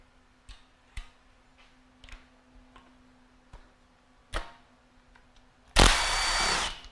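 Sparse ticks and taps of tools on an engine come first, then a loud power tool whirs for about a second to loosen the bolts in a cross pattern.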